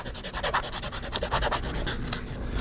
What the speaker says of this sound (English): I'm gonna burnish it with the ruler. I can probably use the bone folder too, so I can get those edges really well.